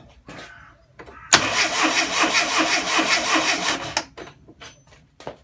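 A car engine cranks on its starter motor, a PowerLite RAC468 gear starter, catching abruptly into a loud, steady roar for about three seconds before cutting off, with faint clatter and short knocks around it.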